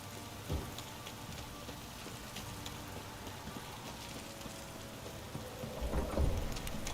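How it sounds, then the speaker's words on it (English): Heavy rain pours in The Witcher 3 video game, a dense, steady hiss with a couple of low thumps, one near the start and one swelling near the end. "This downpour's a bastard, it is."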